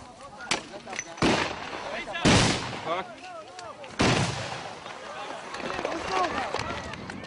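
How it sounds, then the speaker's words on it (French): Soldiers launch tear gas grenades to break up a protest in a Palestinian village by the separation wall, a handful of sharp loud bangs and whooshes over a chaotic crowd with shouting voices. "L'armée décide alors de disperser la manifestation en semant la panique et en lançant des grenades lacrymogènes."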